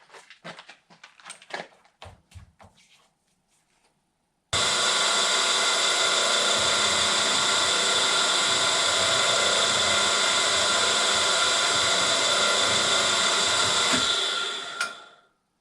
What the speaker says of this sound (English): Now I'm just going to chamfer my holes.